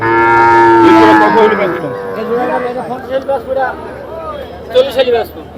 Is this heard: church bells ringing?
no